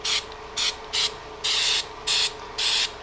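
Flex Seal spray can spraying sealant: six sharp bursts of hissing aerosol, each a fraction of a second long with short pauses between, close and loud.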